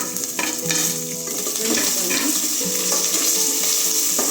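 Cashews, ginger, green chillies and curry leaves fry in a pan for South Indian ven pongal, a loud close sizzle with a spoon scraping and stirring through it.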